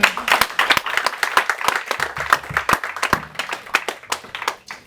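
A church congregation claps to acclaim the Lord, a brisk, rhythmic run of many hands clapping close and loud without pause.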